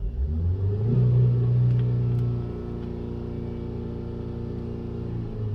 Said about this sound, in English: select continue only after pressing and holding the accelerator pedal to wide open throttle